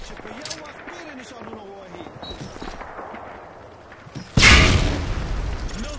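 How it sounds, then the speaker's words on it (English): A frag grenade explodes down a firing range in Call of Duty: Modern Warfare 2, a single sharp boom near the end after soft footsteps and ambient movement. "Toss the grenade down the range and take out several targets at once."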